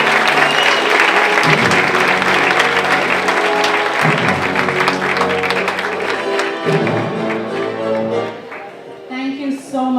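Audience at a college student film awards ceremony breaks into loud, sustained applause, dense clapping filling the hall for several seconds before fading near the end.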